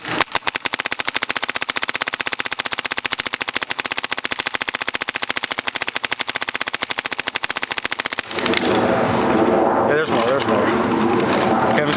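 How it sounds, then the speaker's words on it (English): An Invert Mini paintball marker firing full auto in NXL mode, a rapid, even stream of sharp pops lasting about eight seconds. It then stops abruptly and gives way to a louder, rougher noise. "I'm gonna go ahead and shoot it on my mini"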